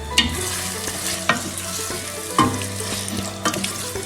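Mushroom mince with onions and fresh tomatoes heats in a pan, a gentle continuous sizzle punctuated by several sharp spoon-on-pan knocks from stirring, close up and without talk.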